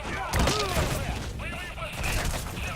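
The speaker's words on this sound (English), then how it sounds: "Run towards the gunfire!" Rapid bursts of gunfire in Metal Gear Solid V: The Phantom Pain crackle and thump amid a busy mix, with voices talking loudly over the shooting.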